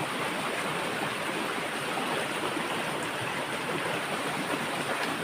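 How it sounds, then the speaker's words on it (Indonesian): A strong, fast-flowing river current rushes in a dense, steady roar of water, loud and close with no pauses and no voices. "Luar biasa derasnya arusnya."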